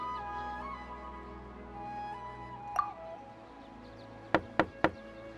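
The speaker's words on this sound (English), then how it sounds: "Let's try knocking." Knocking on a door in the Genshin Impact video game: one soft tap, then three sharp, evenly spaced knocks close up over quiet ambient music.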